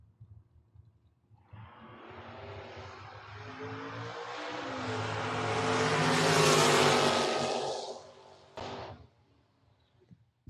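Drag race between a Pontiac and a Camaro at a drag strip, engines swelling from a low rumble into a loud high roaring run that peaks and then cuts off abruptly, with no talk.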